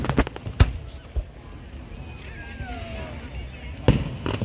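Fireworks burst in the distance, a few sharp pops and bangs scattered over a noisy outdoor background while people talk nearby.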